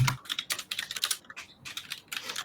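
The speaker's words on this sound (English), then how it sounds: "You can probably hear me typing too." Rapid clicking of keys on a computer keyboard, steady typing with brief pauses, close and clear with no talking.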